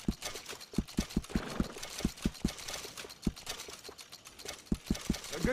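Horse hooves clip-clopping along a bumpy road in the Red Dead Redemption 2 game world, a steady walking rhythm of crisp close hoofbeats with a faint continuous background hiss.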